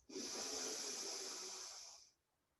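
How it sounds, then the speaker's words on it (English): A single deep inhale through the nose during a yoga and fitness class, a loud, close, airy hiss lasting about two seconds before tapering off into silence. "Inhale through the nose"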